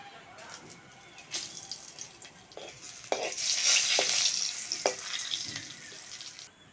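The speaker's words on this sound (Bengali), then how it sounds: "এবার ওই তেলের মধ্যে দুটো শুকনো লঙ্কা, তেজপাতা ফোড়ন দিয়ে দেবো।" Dry red chilies and a bay leaf are tempered in hot oil. A sizzle builds and swells to a loud, crackling hiss midway, with a few sharp scrapes and clinks from stirring.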